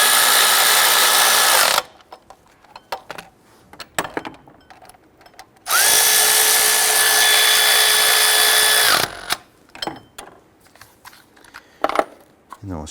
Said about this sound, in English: Let's go ahead and snug down our 15mm bolts.